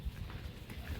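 Hooves of the mare Laxmi clip-clopping on the ground, a few soft low thuds in quick succession, fairly faint and close.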